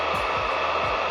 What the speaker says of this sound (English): Now just go right back into that blow dryer.